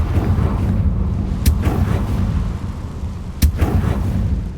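Confringo blasting spell from Hogwarts Legacy: two sharp explosive bursts roughly two seconds apart over a constant low rumbling game background, the second blast slightly louder.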